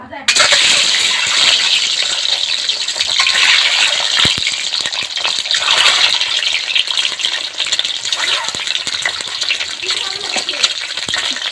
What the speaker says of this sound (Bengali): তেলের মধ্যে আমি ডিমগুলো দিয়ে দেব।